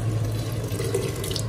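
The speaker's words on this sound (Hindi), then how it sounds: "यहाँ पे हम थोड़ा सा पानी डालेंगे" Continuous running water poured into a pot of arvi masala before pressure cooking, steady and close for a brief moment.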